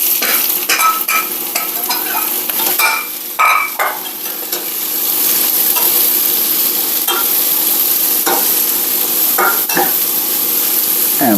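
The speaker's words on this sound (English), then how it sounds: "we're going to let them saute and get everything coated with the oil" Peppers and onions sautéing in olive oil in a pan, a loud steady sizzle broken by clattering stirs and scrapes early on, then a more even hiss, close and without speech.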